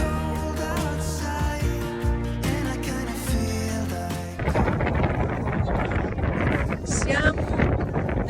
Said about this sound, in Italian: Siamo nella baia di Mont Saint-Michel, c'è un vento incredibile